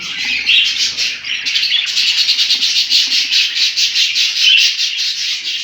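Budgerigar chicks and parent birds in a home breeding cage chirp and squawk in a dense, continuous high-pitched chatter, close and fairly loud throughout with no speech.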